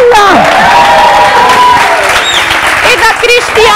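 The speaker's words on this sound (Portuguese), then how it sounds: "Palmas da Rosa." A studio audience on a Portuguese-language talk show breaks into loud, close applause with cheering, while upbeat music and a host's voice carry over the clapping throughout.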